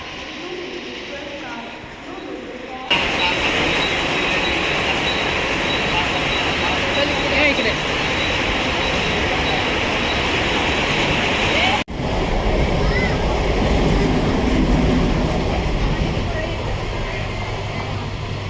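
A Thane-bound local train rumbles steadily with a broad, roaring wash of noise, loud and continuous, briefly cutting out near the end before resuming.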